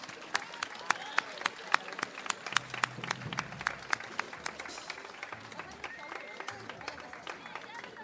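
Audience at a 2015 music festival in Corfu claps for young school music students, scattered sharp handclaps pattering steadily over low crowd murmur and voices.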